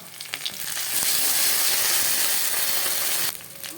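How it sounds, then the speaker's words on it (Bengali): Ginger-garlic paste hits reddened fried onions in a pan and a loud, sustained hissing sizzle swells up for a couple of seconds, then cuts back to quieter crackling. "আদা রসুনটা বেশ ভালো ভাজা হয়ে গিয়েছে"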